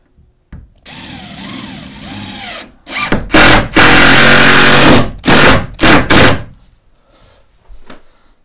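A power drill drives two screws into wood in short loud bursts, the motor revving up and down, with a couple of clicks and gaps between runs; no talking.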